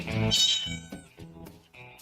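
A cat meows several times in quick succession, loud and close, with bright wavering calls that trail into shorter mews.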